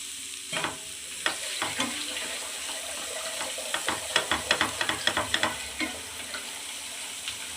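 Garlic frying in oil for a restaurant-style garlic chilli chicken, with a steady sizzle broken by sharp scraping and stirring clatters that cluster in a busy run midway, close and fairly loud, with no talking.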